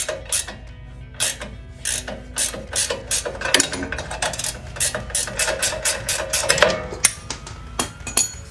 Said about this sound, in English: I'm using a ratcheting wrench